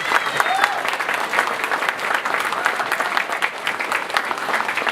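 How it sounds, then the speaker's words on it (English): Steady, dense applause from a banquet crowd at the ABC Houston County Awards Banquet, filling the room evenly from start to finish with no pause. "let's give them a round of applause"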